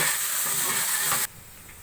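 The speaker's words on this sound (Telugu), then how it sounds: "ఉల్లిగడ్డ ఎర్ర వేగింది చూడండి" Onions and green chillies frying in hot oil for biryani, a steady close bright sizzle and hiss that cuts off abruptly near the end, leaving quiet.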